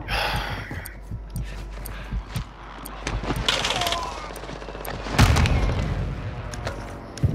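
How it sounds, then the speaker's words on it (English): A friendly airstrike in Call of Duty: Modern Warfare II lands with heavy, rumbling explosions. Dense, rapid gunfire crackles throughout, building to a loud blast near the end. "Friendly airstrike in the AO."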